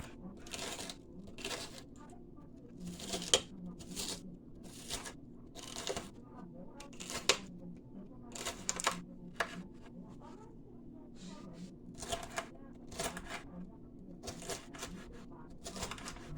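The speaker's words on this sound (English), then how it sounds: "this is so fresh, you can hear the crunch in it when I slice it." Repeated crisp crunching cuts as a knife slices through fresh bell pepper, each stroke sharp and close, in an uneven chopping rhythm with no talking.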